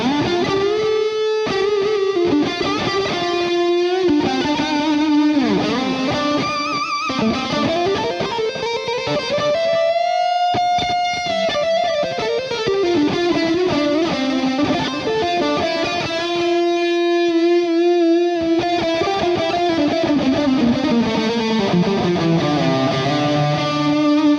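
Distorted, boosted electric guitar through a Two Notes Revolt Guitar analog preamp plays a sustained lead line with bends and echoing delay trails, loud and continuous without any voices.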